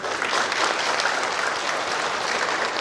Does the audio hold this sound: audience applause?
yes